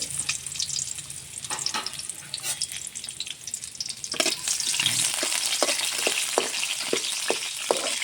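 Mustard seeds and garlic fry in hot oil, a faint steady sizzle with scattered sharp pops and crackles that grows louder and denser partway through, with no talking.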